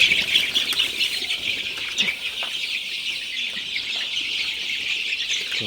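A brooder of Sonali super hybrid chicks, about nineteen days old, keeps up a dense, continuous chorus of high cheeping from many birds at close range, with a few light rustles and taps, and no speech.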